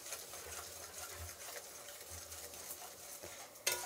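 Mustard seeds, cumin, chana dal and urad dal sputter and fry in hot oil in a pan, a soft continuous sizzle with light crackles and a faint low hum, ending in a brief sharp clink.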